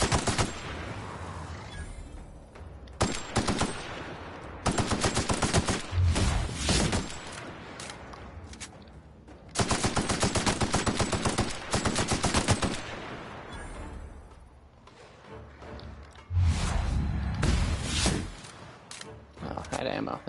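Rapid automatic gunfire in the Outer Worlds video game comes in several loud sustained bursts separated by brief lulls, with someone talking over parts of it.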